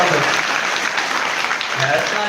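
An audience at a religious discourse in a monastery claps loudly in a dense, continuous round of applause, with a voice speaking over it.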